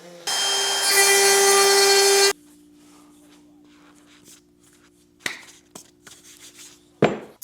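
A loud, harsh electric saw buzz cuts through wood for about two seconds, then stops, followed by a few light knocks and a low hum.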